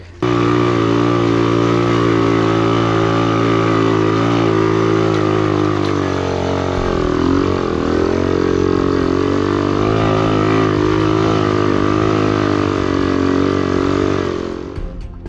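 A Honda CT90 motorcycle engine runs loud and close, holding a steady droning hum with a brief dip and recovery midway, never climbing into a full rev.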